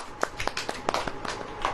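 A few scattered hand claps from a church congregation during a sermon, sharp and irregular, rising and falling quickly over a short span at moderate volume.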